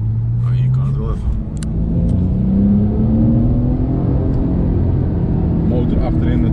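A Porsche 911's rear-mounted engine runs with a steady, close-up drone. Its pitch climbs gradually as the car pulls along at speed.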